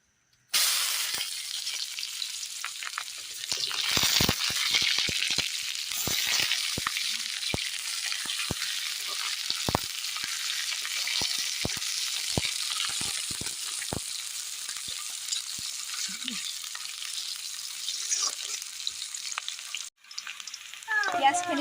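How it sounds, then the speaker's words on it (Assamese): Sliced onions sizzle steadily in a hot wok for Assamese pumpkin and fish curry, a dense continuous crackle with scattered stirring clicks, briefly pausing near the end before resuming. "পিঁয়াজখিনি ধুনীয়াকৈ ভাজা হৈছে"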